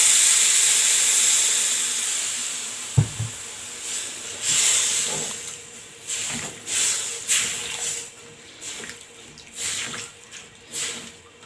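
Water poured into a hot pot of rice toasted with vermicelli, giving a sharp hiss and steamy sizzle that sputters in uneven bursts, close and fairly loud, with no talking.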